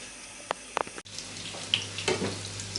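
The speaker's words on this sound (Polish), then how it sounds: "chrupiące placki ziemniaczane, które smażymy z jednej i z drugiej strony" Steady oil sizzling from potato pancakes frying in a pan, with a few clicks and a brief utensil clatter, close up and no voices.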